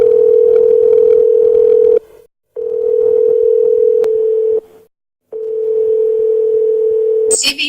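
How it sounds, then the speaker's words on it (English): A telephone rings with a loud, steady electronic tone in long bursts of about two seconds, broken by short silences, and a brief clatter at the end. "The phone rings."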